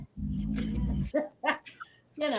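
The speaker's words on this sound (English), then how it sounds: "Is that a dog on the microphone or something?" A dog barks and growls right near a microphone, giving a loud, close, low rumbling bark followed by a few shorter yips and whimpers, with a voice briefly heard at the end.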